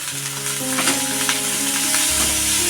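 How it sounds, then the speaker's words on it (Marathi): Fresh grated coconut goes into a pan of melted jaggery and is fried and stirred for stuffed bananas, a loud close sizzle with scraping stirs and no talk. "आता याच्यामध्ये लगेच मी खोबरं टाकून देते"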